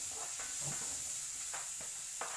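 Garlic and onion sautéing in a pan for chicken adobo, a soft steady hiss with a few brief scraping stirs, fairly quiet and close, with no talk.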